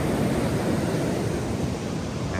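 Ocean surf washing against a beach near Stinson Beach, a steady broadband roar of breaking waves with wind noise buffeting the microphone throughout, close and continuous with no voices.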